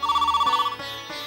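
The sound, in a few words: telephone ringing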